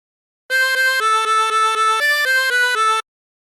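Harmonica plays the opening phrase of "She'll Be Coming Round the Mountain" as a run of even, clear single reed notes, bright and close, alone with no talking.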